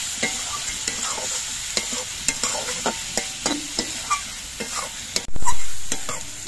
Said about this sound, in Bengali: পেঁয়াজগুলো দেখুন লালচে রং হয়ে ভাজা হয়ে গেছে